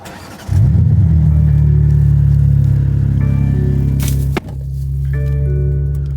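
A BMW G80 M3 with an AWE SwitchPath exhaust starts and settles into a deep, throaty rumble, then revs up and drops back with a brief cut before idling loudly again.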